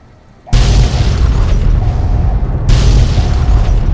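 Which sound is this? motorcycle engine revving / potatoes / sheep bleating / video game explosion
video game explosion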